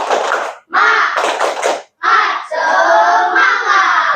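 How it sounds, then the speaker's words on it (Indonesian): A class of pupils in an Islamic studies lesson performs a rhythmic clap chant, short bursts of clapping mixed with children's chanted voices in quick patterned phrases, loud and close, with brief pauses between sections. "Tepuk semangat."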